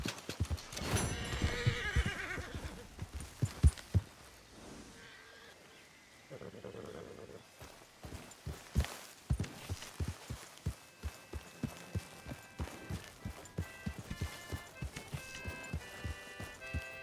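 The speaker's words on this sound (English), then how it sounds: "Get that horse out of camp." In Red Dead Redemption 2, a horse whinnies loudly near the start, followed by a long run of steady hoofbeats clip-clopping along with faint background sounds in a camp.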